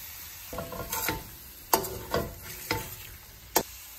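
Chopped tomatoes are stirred into a chicken curry masala in a pan, giving several close, distinct scraping and clattering strokes over a light sizzle.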